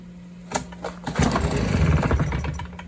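A Stihl BR400 backpack blower being pull-started with the choke on: a couple of sharp cord yanks, then the engine turns over in a rough, sputtering rumble that doesn't quite catch, close and fairly loud.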